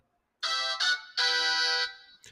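A mobile phone ringtone plays in two short bursts followed by a longer sustained tone, bright and clear, close by, with no talking.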